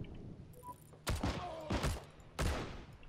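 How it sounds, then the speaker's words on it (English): Gunshots ring out in the video game Heroes and Generals during German infantry combat around a villa, with three loud, sharp reports echoing across the scene. A faint mechanical rattle precedes them. "Where the hell are these shots coming from?"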